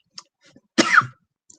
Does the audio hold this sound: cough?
yes